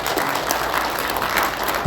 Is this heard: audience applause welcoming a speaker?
yes